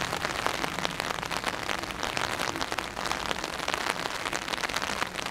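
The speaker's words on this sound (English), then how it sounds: "watching the rain dripping on the tree" Steady rain falls and drips onto trees in a garden, a dense, even patter of drops continuing throughout with no voices.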